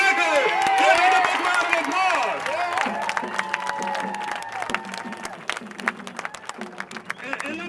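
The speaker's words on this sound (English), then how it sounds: "Give him a big round of applause." Audience at a political gathering breaks into applause with some cheering, the sustained clapping continuing while a voice speaks over it.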